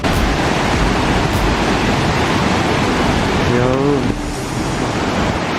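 Mother Falls roars as a steady, loud rush of falling water close by, with a brief voice partway through.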